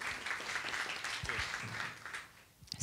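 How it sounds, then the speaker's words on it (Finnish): Quiet applause from a small workshop audience greets a health-services idea team's clinic presentation, soft and steady clapping that fades out near the end. "Kiitos, annetaan aplodit klinikalle."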